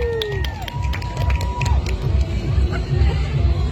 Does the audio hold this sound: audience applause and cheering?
yes